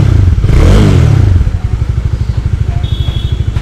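A Bajaj Dominar 400 motorcycle engine revs loudly up close, rising to a roaring peak and then dropping back to a rapid, throbbing idle pulse.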